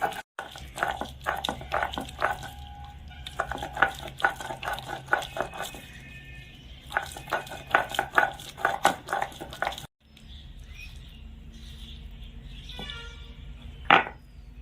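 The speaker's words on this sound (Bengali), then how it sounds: "এখন আমি বেটে নেব।" Fried spices ground into paste in a home kitchen for a Bengali chicken curry, rhythmic knocking and scraping strokes repeating steadily at close range, a short pause, then softer grinding with a sharp scrape near the end.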